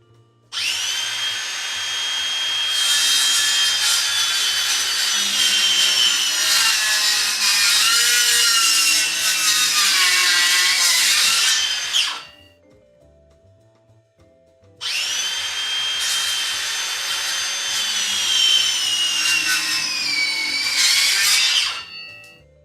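A power saw cuts a trimming off a cedar board for a raised garden bed in two loud, close passes, each a sustained high whine with some pitch wavering, separated by a short pause.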